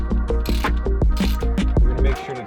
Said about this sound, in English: then I'll take the ratchet and finish them up